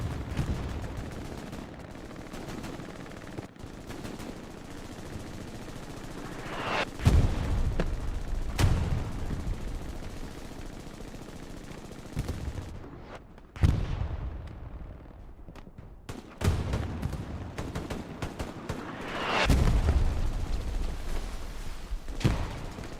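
Hipfire machine gun in Hell Let Loose, played in a competitive Carentan match: faint distant battle ambience broken by several sharp bursts of gunfire spread across the stretch, some louder and closer than others.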